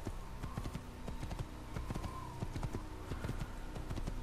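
Horse hooves clip-clopping steadily in Assassin's Creed as the rider travels across open ground, a quiet, even trotting rhythm continuing throughout without talk.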